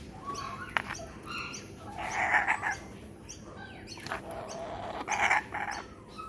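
A small bird chirps in short bursts outdoors, near and moderately loud over a steady hiss of background ambience, with a couple of sharp higher tweets in between.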